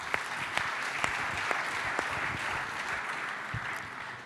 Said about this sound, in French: Que l'on applaudit.